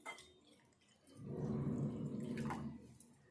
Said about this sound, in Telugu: 1 కప్పు పిండికి 1 కప్పు నీళ్ళు అయితే వేసుకోవాలి.